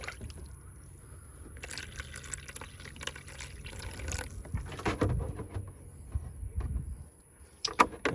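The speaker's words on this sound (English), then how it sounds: "So I'm gonna add a little bit more water because I know that it's gonna drain down some." Water poured into the coolant reservoir of a 2018 Honda HR-V, a faint irregular trickling and gurgling with soft splashes and some handling noise, close by and without talk.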